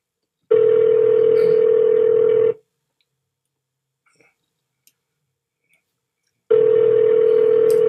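Phone ringback tone from a call placed through Google Voice, a steady electronic tone sounding for about two seconds, then silence, then the same ring starting again, loud and close.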